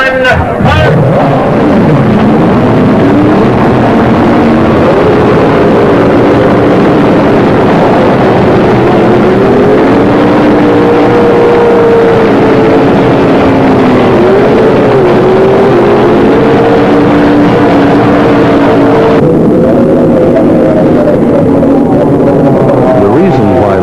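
F1 outboard racing powerboats start their race at the Maple City Grand Prix, a loud sustained roar of several outboard engines with rising and falling pitch, mixed with an announcer's voice through most of it.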